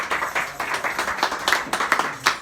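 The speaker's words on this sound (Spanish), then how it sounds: "Un fuerte aplauso al Señor." A congregation applauds at an evening church service, uneven group clapping with sharp individual claps standing out, fairly close and moderately loud, no talk over it.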